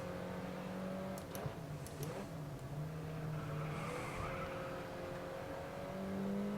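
Race car engine in the Grid Autosport video game, a continuous revving drone that rises and falls in pitch as the car works through corners, with brief tire squeal and gear shifts, steady and moderately loud.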